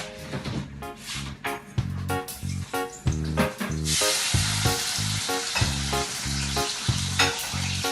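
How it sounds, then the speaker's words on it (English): Seasoning hits a pot of heated oil with a loud burst of frying hiss and spatter, mixed with rhythmic clattering and tonal knocks of stirring, the sizzle surging midway. "now I'm going to add my seasoning to my heated"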